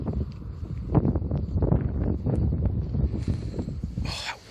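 Gusty outdoor wind buffeting a microphone beside a 2012 Ford Fiesta Mark VII, a continuous low rumbling roar with uneven thumps and swells throughout, loud and close, with a brief rustle near the end.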